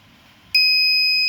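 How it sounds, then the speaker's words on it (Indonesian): A piezo buzzer in a palm-oil mill wastewater quality control demo switches on as a relay flips from NO to NC, giving a sudden loud, steady high-pitched tone that holds without a break. "karena relaynya berpindah dari NO ke NC, maka dia akan menjadi loop tertutup dan menghidupkan buzzer"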